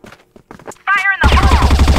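A few faint voices and clicks, then a rapid burst of loud video game gunfire with a rolling low boom, firing continuously to the end.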